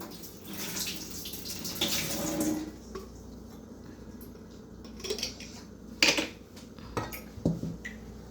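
Water poured and drained off milkfish during home cooking, a few short splashing pours with clinks of a pot and utensils, close by and moderately loud.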